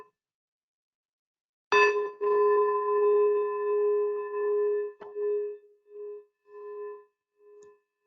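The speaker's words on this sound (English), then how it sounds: "We'll hear the bell, take 3 breaths, and begin the meditation." Meditation bell struck once, a clear bright ring that sustains and slowly decays into a pulsing, wavering hum, with a soft second touch partway through; no talk over it.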